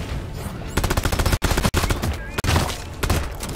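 Rapid automatic gunfire from a player's weapon in Deep Rock Galactic, dense rattling bursts broken by a few brief pauses, loud and close, with no speech over it.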